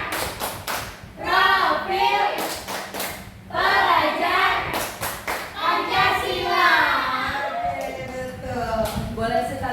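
A group claps in a patterned rhythm, bursts of claps alternating with children's chanting voices, an Indonesian school clap chant in a classroom.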